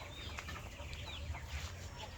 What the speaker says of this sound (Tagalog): Yun si Hari Manok.